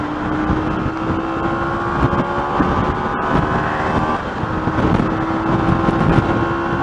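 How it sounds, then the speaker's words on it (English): Motorbike engine under throttle, revving and pulling harder while riding out on the road, steady and loud with heavy wind buffeting the microphone throughout. "You can tell the bike wants to accelerate now"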